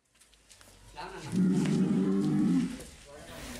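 A cow at a cattle farm in Lumajang, East Java, lets out one long, loud, low moo lasting over a second, close by amid faint background noise.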